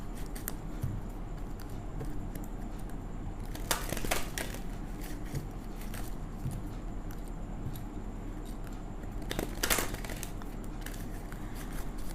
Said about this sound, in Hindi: मैं इसे एक बार शफल कर लूँ।